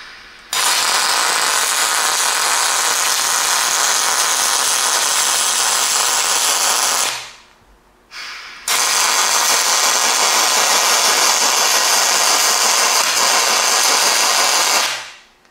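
Welder running on steel, a loud continuous crackling hiss in two long passes with a short break between, close and steady, with no voices.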